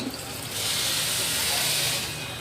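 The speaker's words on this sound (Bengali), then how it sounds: "চালটা ভাজা ভাজা হয়ে গেছে, সেই জন্য আমি জলটা অ্যাড করে দিলাম।" Water pours into fried rice in a pressure cooker, a continuous rushing, hissing splash that swells and holds steady for a couple of seconds, loud and close.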